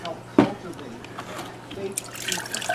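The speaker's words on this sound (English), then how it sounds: "pour this water into the pot until the bottom planter is full" Water poured from a container into an orchid pot for semi-hydroponic potting, filling the bottom planter; a steady close splashing trickle building toward the end, with a sharp knock near the start.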